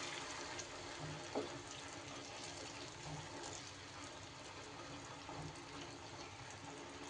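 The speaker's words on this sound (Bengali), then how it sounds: "এইবার আমি এখানে অ্যাড করে দেব জল।" Room-temperature water is poured into a pan of kasundi paneer, giving a soft, continuous splashing gush that stays faint and steady throughout.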